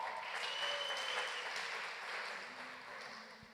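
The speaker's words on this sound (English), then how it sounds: "Big round of applause." Applause from an audience at a public committee meeting, a steady wash of many hands clapping at moderate level that slowly thins toward the end.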